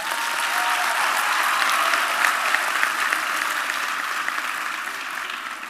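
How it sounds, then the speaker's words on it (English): A graduation audience on the Gqeberha campus applauds the choir after their performance, a broad, even wash of clapping from a large crowd that holds steady and fades slightly toward the end. "Can we give them another round of applause?"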